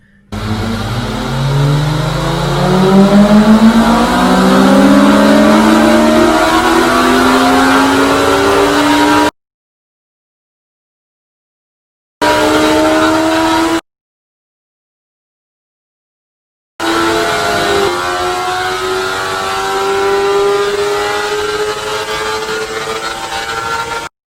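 Motorbikes accelerate hard on a race track, engines climbing steadily in pitch through the gears, loud and close, heard in separate runs with gaps of silence between them.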